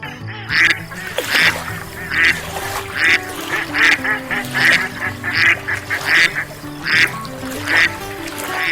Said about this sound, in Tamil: சுதா, சந்தோஷ், அங்க பாருங்களேன், வாத்து பண்ண